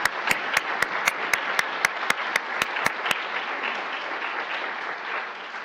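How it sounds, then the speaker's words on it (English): Audience applause after a health talk on stroke prevention, a dense wash of clapping from many hands with a few sharp, regular claps standing out near the start, then tapering off. "Let's give him another round of applause."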